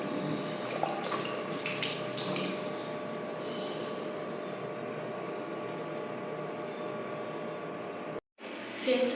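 Tap water runs steadily and close by as someone washes their face, a continuous broadband rush that cuts off briefly near the end before resuming.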